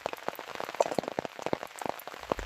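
Steady rain patters on a surface at a rainy campsite, a dense stream of close, crisp drops with a few louder splats, heard alone with no talk.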